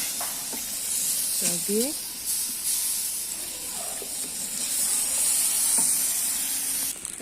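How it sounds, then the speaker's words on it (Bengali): Rice fries in a pot on a clay stove in a home kitchen, giving a moderate, continuous hiss with occasional stirring scrapes. A person talks briefly over it. "এখন দিয়ে দিচ্ছি হলো চাল, আর ভালো করে ভেজে নেব"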